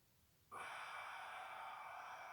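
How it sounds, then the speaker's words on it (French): A big, deep breath drawn during a gentle Eva Ruchpaul-method yoga class: after a quiet pause, a sudden, full, airy inhale sets in and holds steady and fairly loud to the end. "Et une grande respiration."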